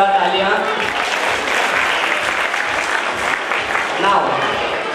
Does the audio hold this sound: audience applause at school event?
yes